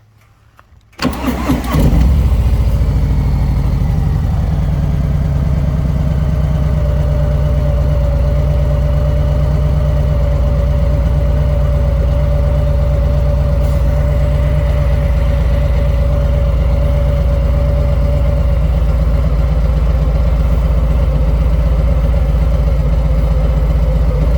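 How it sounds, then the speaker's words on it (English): A Harley Davidson Sport Glide motorcycle engine cranks and fires after a brief quiet moment, then settles into a loud, steady, deep idle that runs evenly for the rest of the stretch. "let's start the bike up, and I'll probably dub over this because you probably can't hear me."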